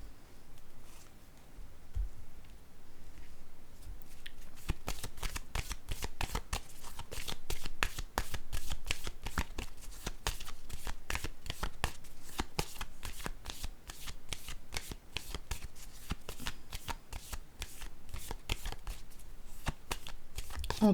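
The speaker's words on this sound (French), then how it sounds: "là, je vais déposer une carte ici" Playing cards are handled and laid down on a table, with a rapid run of crisp flicking riffles, close and fairly quiet, continuing steadily with no talk.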